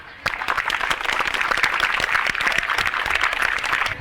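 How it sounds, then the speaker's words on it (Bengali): A school audience bursts into applause for students who have just sung, the clapping starting abruptly after a brief silence and holding full and even for about four seconds. "আমরা একটি করতালি দেই।"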